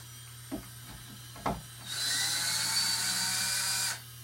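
A couple of soft knocks, then a power drill whirs steadily for about two seconds before stopping, over a low background hum.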